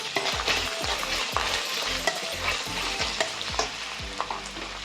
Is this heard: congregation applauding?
no